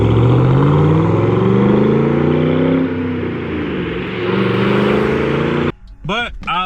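A stock fifth-generation Chevrolet Camaro SS V8 revs and drones loudly with harmonic exhaust tones, rising and falling, before a sudden cut and brief rumbling bursts near the end.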